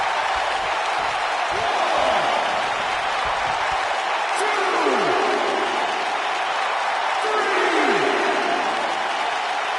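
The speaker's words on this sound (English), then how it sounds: "by the sound of this crowd, I think they're getting what they wanted" Arena crowd noise from a WWE 2K19 wrestling dream match, a steady loud roar and cheering filling the whole stretch, with faint commentary-like sounds underneath.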